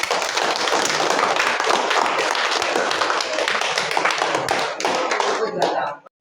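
Students in a school classroom clap their hands together in a dense, steady burst of applause lasting several seconds. The clapping stays close and fairly loud, then tapers off abruptly at the end.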